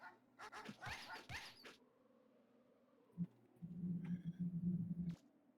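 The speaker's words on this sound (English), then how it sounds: "these are the dogs you can kick" Dogs in the video game Megaman Legends giving a burst of several short, sharp barks, then quiet, then a longer run of low, buzzy synthetic growls with a few higher blips, all faint.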